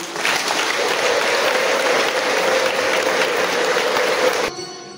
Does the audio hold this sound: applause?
yes